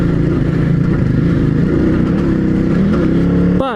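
A Yamaha Tenere 700 adventure motorcycle ridden off-road in the desert, its engine loud and close with a rough, pulsing drone that rises and falls with throttle before cutting off sharply at the end.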